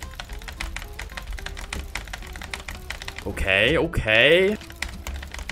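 An unusual computer keyboard is typed on rapidly, a dense run of close, crisp key clicks throughout, while a person speaks briefly partway through.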